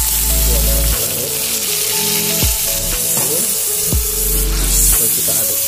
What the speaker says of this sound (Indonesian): Kita masukkan sedikit air agar gula merahnya larut.